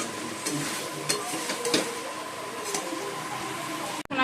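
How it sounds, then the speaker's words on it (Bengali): Chicken being stir-fried for kosha in a pan at home, giving a steady close sizzle with scraping stirs and soft clinks throughout, ending in a brief sharp knock. "চিকেনটা কষাচ্ছি"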